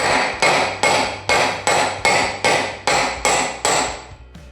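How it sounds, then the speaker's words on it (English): A hammer taps a bearing into place on a John Deere 214 mower's steering in a quick, even series of about ten ringing metal blows, close and loud, each with a short metallic decay. "gonna switch to a regular hammer"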